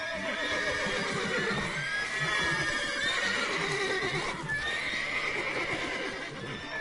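Several horses in The Witcher 3 video game neigh and whinny repeatedly, loud and close, over a constant bed of hoof clip-clop and stable noise, with no talk.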